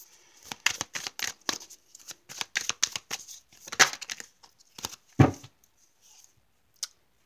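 Tarot cards being shuffled by hand: a quick run of crisp riffles and snaps that thins to a few scattered flicks, close and fairly quiet.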